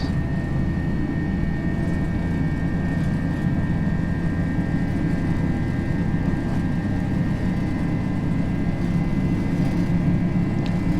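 An Airbus A321 on its takeoff roll in a flight simulator game gives a steady, loud, low jet engine rumble with a constant high whine above it, running unbroken with no talking.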